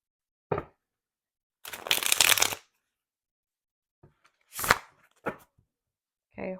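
Tarot cards are shuffled in several short riffling bursts separated by silence, close and crisp, with a brief bridge-like flutter near the middle and no speech.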